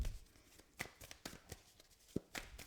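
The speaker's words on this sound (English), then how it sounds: "We'll just shuffle one more time." Tarot cards are shuffled by hand in a quiet room, giving soft, rapid riffling and tapping bursts at close range, faint and uneven, with no voices.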